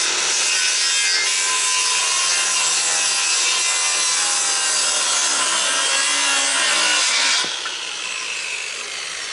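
A hand saw cuts through the end of a white pine rafter from rough-cut lumber, steady back-and-forth rasping strokes, close and loud, running continuously before easing off near the end.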